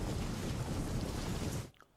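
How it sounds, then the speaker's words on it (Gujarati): Dense, heavy rain in Gir Somnath district, Gujarat, roars loudly for over a second and a half, then cuts off abruptly, leaving faint background noise. "ગીર સોમનાથ જિલ્લામાં ધોધમાર વરસાદ જોવા મળ્યો"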